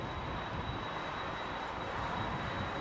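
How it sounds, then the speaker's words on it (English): Boeing 767 freighter jet engines at London Heathrow, a steady, broad rushing whine that holds constant and fairly loud for the whole stretch, with no voices over it. "Near this 767 whistling away behind me, folks."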